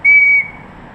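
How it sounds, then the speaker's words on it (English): A homemade whistle cut from a hollowed stick with the bark skin slid off gives one loud, steady shrill tone lasting under half a second, then silence. "you will have a whistle that works thusly"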